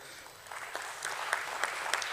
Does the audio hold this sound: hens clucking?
no